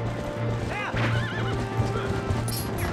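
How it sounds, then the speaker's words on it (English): Ghostly horses from the Zelda: Twilight Princess video game whinny in rising and falling wails over steady clip-clop hooves and a low droning game soundtrack, loud and continuous throughout. "It's freaking ghost horses."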